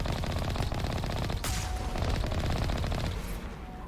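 Rapid, continuous heavy cannon fire from the Mass Effect Legendary Edition game roars densely for several seconds, loud and unbroken with a brief sharper blast midway and no talking.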